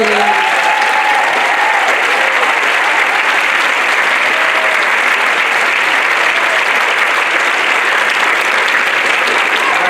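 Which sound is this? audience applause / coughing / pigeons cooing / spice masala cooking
audience applause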